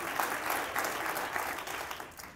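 Church congregation clapping during an evening service, a fairly soft, steady patter of many hands at some distance, continuous and without talk.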